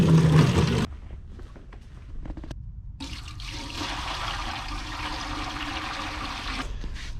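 Water pours into an ultrasonic cleaner tank, a loud splashing gush at the start, a brief near-silent pause, then a steady hissing stream and trickle running for several seconds.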